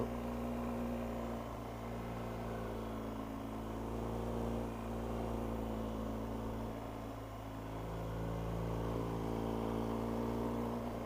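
A BMW GS motorcycle ridden on the road during a summer holiday, heard as a steady low engine drone under rushing wind noise that rises and falls gently throughout, with no talk.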